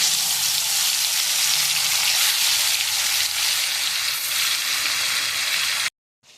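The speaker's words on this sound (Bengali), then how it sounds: "তেলটা গরম হয়ে গেছে। এবার আমি ভোলা মাছগুলো ছেড়ে দেবো।" Bhola fish fry in hot oil with a loud, dense, steady sizzle heard up close that cuts off abruptly near the end.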